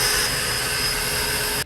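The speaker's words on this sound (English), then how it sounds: "The rear blowing port on this wet dry vac allows for quick cleanup of leaves and grass clippings in your garage and outdoors" A DeWalt stainless steel wet/dry shop vac blows air from its rear port, producing a loud, steady roaring rush with a high whine that holds evenly and then cuts off abruptly near the end.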